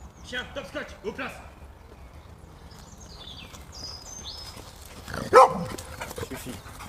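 A dog, one of two running with a jogger on a woodland path in the Bois des Hâtes, Indre-et-Loire, gives a single sharp nearby bark amid footsteps, while people speak quietly.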